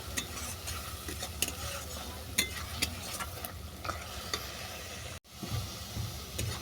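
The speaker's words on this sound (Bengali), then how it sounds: "এর মধ্যে দিয়ে দিলাম স্বাদ মতো চিনি মশলাটা ভালো করে কষিয়ে নেবো যতক্ষণ না মশলা থেকে তেল ছাড়ছে" A spice paste with sugar is stirred and fried in hot oil in a pan, giving a steady close sizzle broken by regular scraping strokes of a spoon, with no voices.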